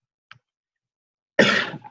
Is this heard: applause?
no